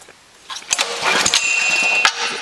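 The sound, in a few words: Honda GX140 small engine starting and running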